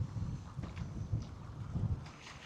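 Strong wind gusting across the seafront at Llandudno, a low blustery rumble buffeting the microphone in uneven surges, fairly close and moderately loud.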